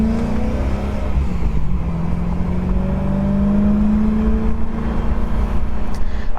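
A BMW E92 M3 fitted with an Akrapovic Evolution exhaust accelerates hard, its engine note rising steadily through the revs in a loud, close, continuous pull with no talking.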